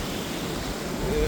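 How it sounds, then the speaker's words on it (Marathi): Large rough sea waves surge along the Konkan coast, a dense continuous roar of surf that fills the brief moment, close and loud. "पाणी नुसता खवळला आणि मोठ्या मोठ्या लाटा येत आहेत पूर्ण"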